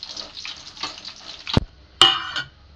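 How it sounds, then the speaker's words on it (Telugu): Dried red chilies sizzle in hot oil, a close, steady frying crackle with stirring scrapes and a sharp clatter near the end. "మన ఎండుమిర్చి అయితే ఈ కలర్ వచ్చే వరకు మంచిగా గోలించుకోవాలి"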